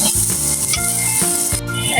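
Spice masala frying and being stirred in a pan for a chicken, tomato and green pea curry, with a steady close sizzle and repeated scraping strokes of a spoon, continuous through the short clip with no talk.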